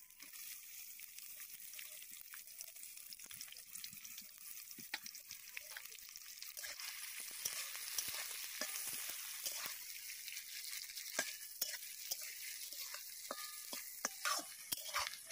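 Chopped onion frying in hot oil in a pan for an egg curry, a faint, steady sizzle with soft crackles and occasional stirring taps throughout.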